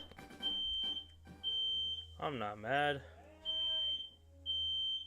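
A smoke-style fire alarm beeps in long repeated bursts at a steady rhythm, fairly loud indoors, while someone talks and his voice rises over it partway through.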